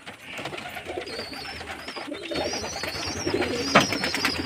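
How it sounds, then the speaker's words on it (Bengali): Domestic pigeons in a loft on a hot day, giving soft repeated coos and warbling calls over a steady background bustle of birds, fairly close. "হাঁড়ি পায়রাগুলো জল খাওয়ার জন্য ছটফট করছে"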